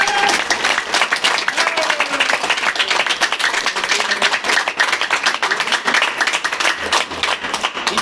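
Loud, continuous applause from a crowd at a company rank-achievement celebration, a thick wash of many hands clapping at once for the full eight seconds.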